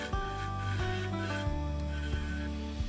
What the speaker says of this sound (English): To achieve a truly even surface, I use a skew chisel.